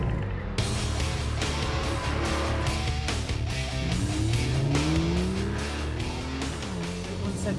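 A 2013 Porsche 911 Carrera 4S pulls away, its engine note rising steadily at close range over continuous road and cabin noise, with gear-change dips partway through.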